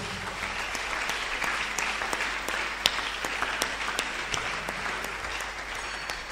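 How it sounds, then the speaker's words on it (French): A church congregation at a Sunday service applauds continuously, a dense, sustained clapping that fills the room at an even level throughout. "Acclame bien."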